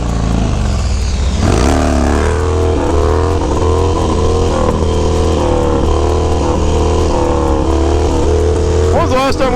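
Harley-Davidson Dyna motorcycle engine revving hard and holding high rpm for a wheelie, a loud continuous drone with rising and falling pitch, a sharp rev near the end, voices talking over it.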